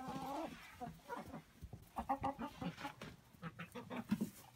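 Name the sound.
chickens clucking in coop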